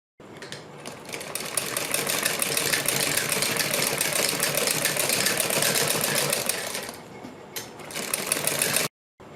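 Sewing machine stitching salwar fabric alongside buckram, a steady close whirring run of rapid stitches for most of the span, pausing briefly near the end before resuming.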